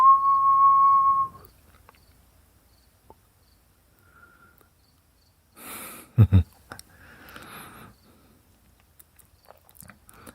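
A person whistling one steady, clear high note for just over a second, followed by near silence and scattered clicks and rustles.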